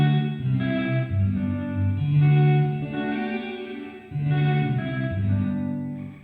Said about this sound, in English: So this is just reverb now with no dry signal.